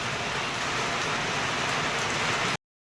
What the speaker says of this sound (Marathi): आता एवढा जोरजोरात पाऊस पडतोय.